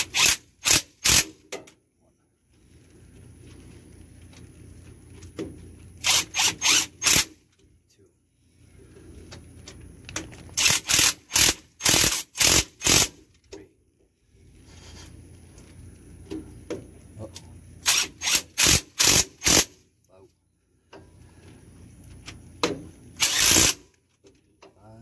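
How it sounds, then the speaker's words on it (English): Hand wrench ratcheting bolts on a car's CV axle during a repair, with repeated bursts of quick, sharp clicking separated by quieter pauses of low rumble and movement. "Last time I'm gonna use this wrench"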